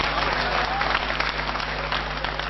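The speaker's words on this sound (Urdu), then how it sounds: "اگر آپ شاعری کی حفاظت کرنا چاہتے ہو تو زور سے تالیاں بجا دیجئے" Audience at an Urdu poetry mushaira applauding loudly and steadily, a dense continuous clatter of many hands close by with no talk over it.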